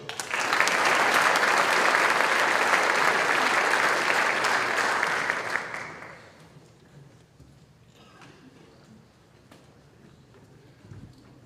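Loud, sustained applause from an audience at a high school top scholars ceremony, dense clapping for about six seconds before it dies away into a quiet room with a few stray sounds.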